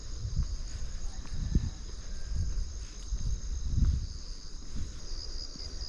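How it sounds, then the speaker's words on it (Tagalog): Crickets chirping on Mt. Kulago in Bukidnon before sunrise, a faint steady high trill over low rumbling wind and handling noise, distant and continuous. "tunog ng mga kuliglig lang ang maririnig mo"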